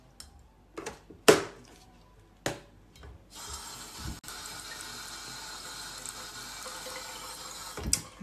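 Tap water running steadily into a glass or sink for several seconds, preceded by a few short clinks and knocks, fairly close and moderately loud with no talking.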